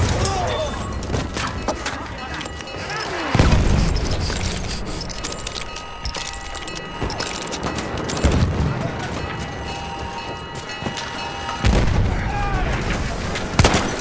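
Loud booming impacts and heavy gunfire rumble through a Battlefield 1 artillery barrage, with several deep blasts spaced a few seconds apart over continuous crackling shots, and voices talking underneath.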